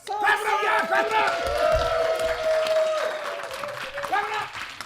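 A live studio audience at a BGG.Spring 2024 board game convention livestream claps and cheers continuously, a dense crowd swell under raised voices urging the applause on.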